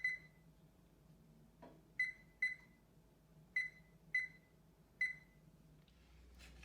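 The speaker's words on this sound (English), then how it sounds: "So I'm going to put my buzzer on for 10 minutes." Six short electronic beeps ring out at uneven intervals as buttons are pressed on a timer, quiet room otherwise, with a faint clatter near the end.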